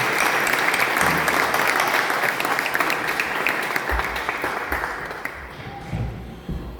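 Congregation applause at a Hindi/Urdu Christian fellowship worship service, a full dense round of clapping that gradually tapers into scattered claps, with low voices and rumbling sounds underneath.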